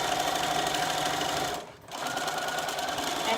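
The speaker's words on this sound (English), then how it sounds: "So just stitch all the way down to the bottom." A sewing machine runs a seam on a summer skirt with a steady, close mechanical whir. It pauses briefly near the middle, then resumes at the same even pace.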